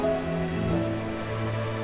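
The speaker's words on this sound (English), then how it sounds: "When is this rain going to stop?" Steady rain falling in Genshin Impact, a soft continuous wash of drops on surfaces with low tonal game music running underneath, even and unbroken throughout.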